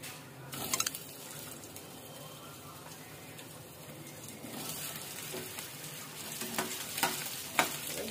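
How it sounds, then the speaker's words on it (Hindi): Potatoes frying in hot oil, a dense continuous sizzle like rain with occasional sharper crackles and pops, close and steady. "ऑयल गर्म हो चुका है तो अब इसके अंदर आलू डालेंगे।"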